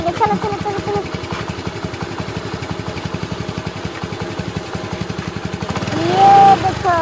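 A toy scooter runs with a rapid, even mechanical chugging like a small engine, loud and steady for several seconds before a brief louder swell near the end.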